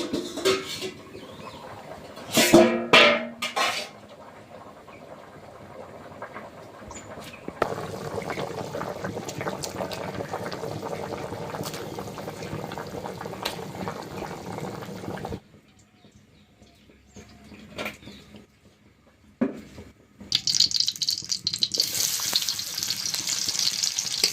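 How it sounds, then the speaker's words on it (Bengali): Curry with fish and taro in a pot over a village cooking fire gives off a steady bubbling sizzle, with occasional stirring clatter, several louder bursts, a quieter pause, and then a brighter hiss. "তরকারি ফুটে উঠেছে"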